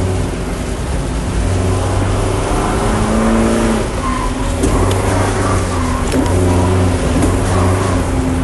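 A vegetable transport car is driven hard and drifted on the wet Mandalika race track, its engine droning loudly and steadily with shifting revving tones and tire-on-water hiss throughout, close to the microphone, with no speech.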